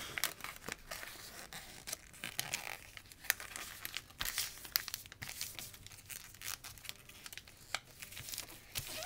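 Sheets of paper being folded into an origami flapping bird, close crisp crinkling and creasing with irregular sharp rustles and taps, fairly quiet and continuous.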